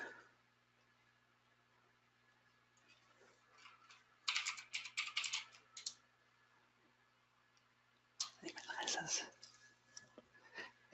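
Two bursts of rapid clicking keystrokes on a computer keyboard while logging in, quiet and close, separated by a near-silent pause with faint background hum.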